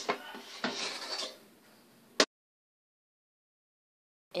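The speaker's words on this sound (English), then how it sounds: "So I'm going to remove the pot from the rice cooker." A metal cooking pot holding brownie batter is lifted out of a rice cooker, with soft scraping and clattering followed by one sharp knock, then near silence.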